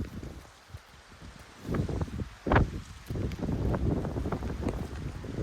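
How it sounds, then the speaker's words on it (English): Gusty wind at Mount Rainier National Park buffets the microphone, quiet at first, then rising into rough, rumbling blasts that keep roaring to the end. "Still really windy."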